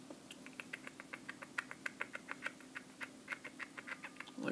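Pencil eraser rubbing back and forth on paper, a rapid run of short scratchy strokes over a steady low hum, close and fairly quiet, with no talking.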